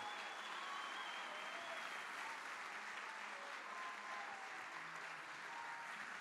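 Steady applause from a sizeable crowd, dense clapping that holds at an even level throughout.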